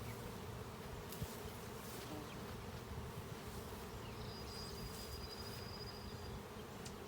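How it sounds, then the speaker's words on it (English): Honey bees buzzing around a five-frame nuc box after a swarm from a cedar tree, a constant dense hum of many insects at moderate distance with no talking. "And there's bees around the box."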